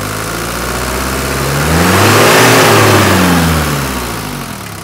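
A Mercedes W123 240D diesel engine revs up from idle to a higher steady roar at high idle, then eases back down, running smooth and close with no talk over it.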